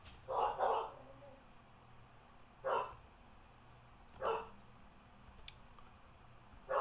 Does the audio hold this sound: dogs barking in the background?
yes